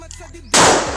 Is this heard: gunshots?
yes